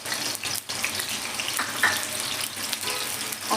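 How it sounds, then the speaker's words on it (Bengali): Diced potatoes fry in hot oil, giving a steady, close hiss of sizzling that runs unbroken throughout. "এবার তেলের মধ্যে আমি প্রথমে আলুগুলো ভেজে নেব।"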